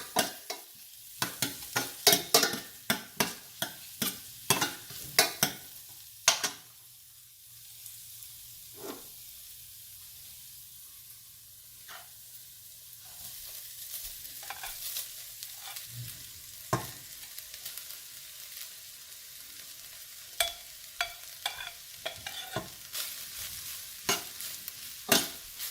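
Vegetables and rice stir-fried in a pan over a medium flame for peri-peri paneer fried rice: a soft steady sizzle runs throughout, broken by repeated sharp scrapes and clacks of a spatula, dense at the start and again near the end.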